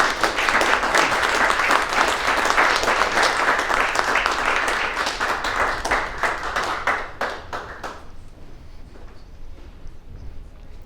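An audience applauds to welcome Professor John Lobell to the stage, a dense, steady wash of clapping hands that thins out and fades to scattered claps near the end.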